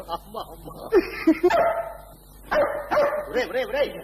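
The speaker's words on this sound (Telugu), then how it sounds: "ఈ కుక్క అరస్త పరిగెత్తుకొచ్చింది" A dog barks in a few sharp bursts, close by, with people talking and calling around it.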